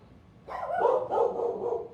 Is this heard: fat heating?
no